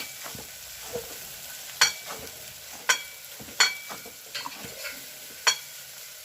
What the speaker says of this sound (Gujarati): એને સરસ રીતે આપણે હલાવી દેવાનું છે।